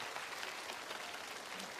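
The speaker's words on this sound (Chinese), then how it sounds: "好了，再次把掌声送给我们的阿木老师，送给陈冰" A studio audience at a televised singing competition applauds steadily, a dense continuous patter of many hands at moderate loudness, with no voices over it.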